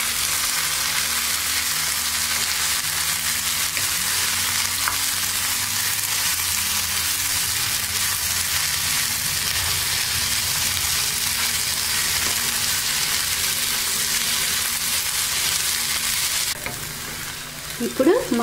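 Cooked rice and brinjal fry in a pan with a loud, continuous sizzle while a spoon scrapes and stirs steadily throughout, close to the pan, ending in a few louder knocks.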